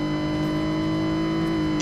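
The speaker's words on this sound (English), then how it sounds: "it pretty much sounds the same as all the other cars in Greenville" A car engine in the Roblox game Greenville holds a steady, droning rev, loud and close with a constant tonal hum for the whole stretch and no talking.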